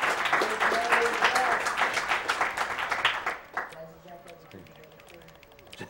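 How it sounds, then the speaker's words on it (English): Loud audience applause at the AGDQ 2014 speedrunning charity marathon for about three seconds, then fading to scattered claps against a quiet room. "give them like the biggest round of applause ever"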